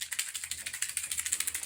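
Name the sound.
shaking a shamanic rattle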